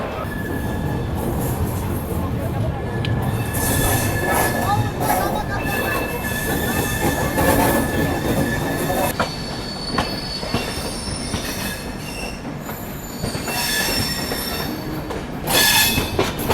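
Howrah Rajdhani Express pulling out of New Delhi station, loud continuous rumble of rolling coaches with high wheel squeals and rhythmic rail clatter, heard from on board, steady throughout with occasional faint voices.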